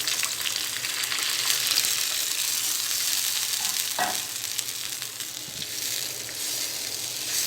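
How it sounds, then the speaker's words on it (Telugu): Prepared pepper rasam poured into a pan of frying onion pieces, giving a steady close sizzle and bubbling hiss throughout with one brief splash partway, no talking. "ఉల్లిపాయ ముక్కలు ఫ్రై అయిన తర్వాత మనం ముందుగా తయారు చేసుకున్న రసాన్ని వేసుకోవాలి."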